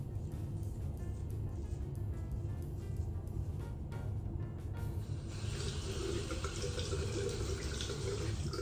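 A bathroom tap runs steadily as a safety razor is rinsed under it, with the water hiss brightening partway through as the blade moves into the stream.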